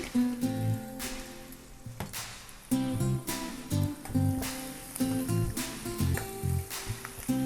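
Cumin seeds and green chillies sizzle and crackle in hot oil for a South Indian lemon rice, a steady, loud frying hiss layered over the tones of background music.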